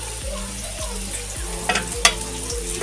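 Food sizzles steadily on a clay stove, a constant crackling hiss with a few sharper pops and stirring clinks near the end.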